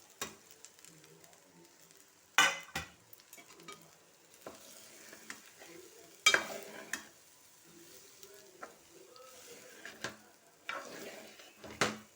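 Rice for raw mango pulihora being stirred in a pan, a steady scraping and soft sizzle with several sharp, louder stirring knocks spread throughout, fairly quiet and close with no talk.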